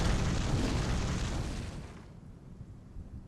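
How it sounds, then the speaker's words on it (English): An explosion in the video game Bloodborne sets off a trap, a loud sustained blast with a broad rumble that slowly fades over a few seconds. "That extra explosion would have been what triggered the trap"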